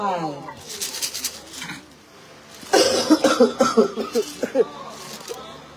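A few seconds of talking, then a burst of several loud, close coughs in quick succession right into the microphone, during bingo number calling at a Christmas party.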